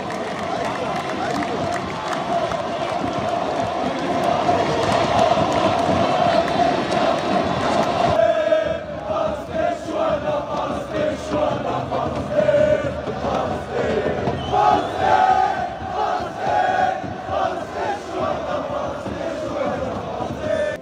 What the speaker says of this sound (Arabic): دي كانت هتافات الجماهير الجزائر بالأمس